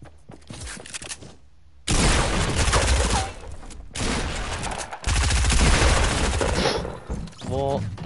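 Gunfire rattles in a Fortnite match, dense rapid bursts of shots in several loud stretches separated by short gaps, close and aggressive, with a voice talking over parts of it.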